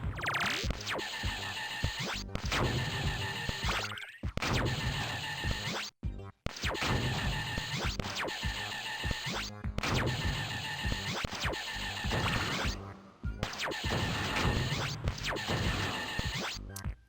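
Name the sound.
1950s sci-fi alien weapon sound, video game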